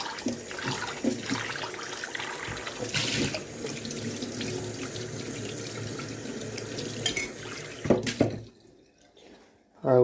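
A kitchen tap runs steadily into a sink while dishes are washed up, a close, continuous hiss of water with light clatter, then cutting off near the end into quiet.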